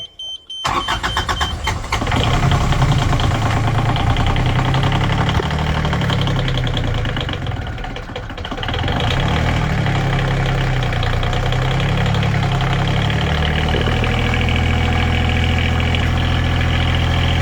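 A newly installed Beta 25 diesel engine in a sailboat starts and settles into a steady idle, loud and close, its rumble running unbroken throughout with faint voices briefly audible.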